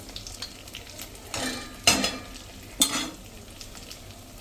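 Kashmiri red chili and coriander-cumin powder cook in oil, a low, gentle sizzle lifted by a few short bursts of scraping and stirring in the pan.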